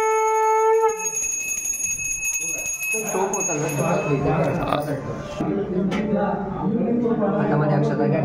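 A small brass puja hand bell rings clearly with a sustained metallic tone at the start, then continues faintly under chanting voices and a busy room during a Satyanarayan puja.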